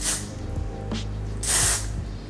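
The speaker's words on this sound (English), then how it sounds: "I'm gonna spray more hairspray" Hairspray sprayed onto naturally straight hair during a blowout styling routine, short hissing bursts close to the microphone, the longest one near the end, with no talking.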